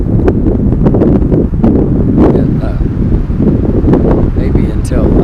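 Strong wind buffets the microphone at an off-grid truck camper campsite during a red flag warning, a loud continuous roar and rumble with gusty swells throughout.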